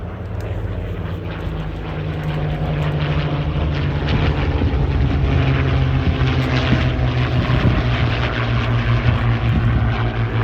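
A Supermarine Spitfire LF XVIe flies past at an air display, its propeller engine a steady loud droning roar that swells gradually over ten seconds with no talk.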